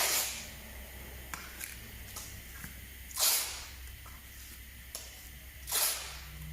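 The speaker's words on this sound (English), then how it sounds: "And I start spraying the spray gun." A paint spray gun is used on a Ford Focus car wheel during a refurbishment. Short, airy hissing bursts come in three separate puffs across a quiet workshop background.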